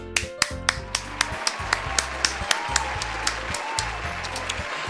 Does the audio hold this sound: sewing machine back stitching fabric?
no